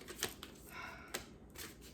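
Tarot cards being shuffled by hand, a soft papery riffle with a few sharp flicking bursts at a steady pace, fairly close and quiet with no voice over it.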